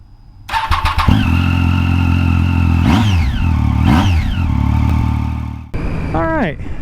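A motorcycle engine starts up and revs repeatedly with rising and falling pitch, loud and close, as a ride gets underway on a sunny day.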